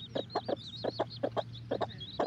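A cream-colored Ameraucana hen clucks nearby in a series of quick, soft, evenly spaced clucks, paired in short bursts, alone with no voices.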